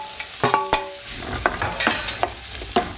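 Chopped onions fry in butter in a pan, giving a steady close sizzle broken by several sharp clacks of stirring against the pan.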